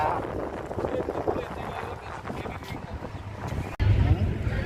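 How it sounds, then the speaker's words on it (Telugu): A boat powered by a heavy Leyland lorry engine churns along at speed, its low continuous rumble and wind buffeting running steadily beneath nearby talk. "లారీ ఇంజినేనా దీనిది? లైలాండ్దా? బాగా హెవీ ఉంది."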